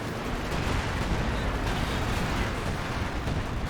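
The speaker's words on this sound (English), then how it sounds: "This looks like Soviet artillery barrage there." Soviet artillery barrage in the Company of Heroes strategy game, a dense, continuous roar of overlapping blasts and rumbling impacts that stays loud and steady from start to finish.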